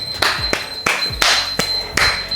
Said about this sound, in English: Huge, huge dumbbell clap for your efforts today.